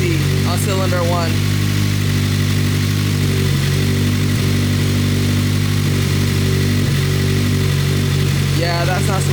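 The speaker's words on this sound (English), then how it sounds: "It's misfiring like crazy on cylinder 1." A Mitsubishi Evo engine idles roughly while misfiring on cylinder 1, a loud steady drone with uneven pulses throughout, and people talk over it.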